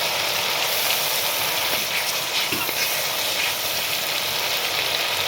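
Ginger paste sizzles steadily in a hot pan while cooking eggplant for begun bahar, a continuous, fairly loud frying hiss with no talk over it.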